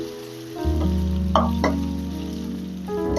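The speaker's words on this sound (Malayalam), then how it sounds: "നമുക്ക് ഇഡ്ഡലി ഇട്ട് കൊടുക്കാം ഫ്രൈ ചെയ്തെടുക്കാം" Idli pieces frying in hot oil in a pan give a steady, close sizzle with a few sharp crackling bursts, and no voices are heard.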